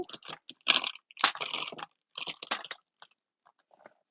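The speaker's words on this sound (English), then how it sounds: "So I'm going to trim this down to" A paper trimmer slices through cardstock in a series of close, crisp scraping strokes, bursts of rasping cuts separated by short pauses and trailing off into faint ticks.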